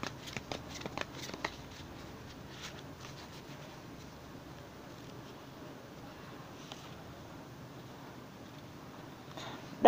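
Tarot cards are shuffled close by in a quiet room, with quick riffling bursts early on that fade into soft, faint handling.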